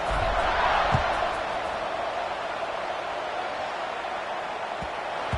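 A football stadium crowd buzzes after a touchdown, a broad steady roar of many voices that swells slightly at the start and holds level throughout, with a couple of faint thumps.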